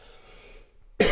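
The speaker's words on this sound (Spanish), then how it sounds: "Disculpad, uy, esa tos." A single loud, abrupt cough bursts in at the very end after near silence, close to the microphone, from a physics teacher lecturing on the photoelectric effect.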